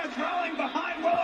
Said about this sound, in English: Crowd shouting for one more time, and maybe one more time.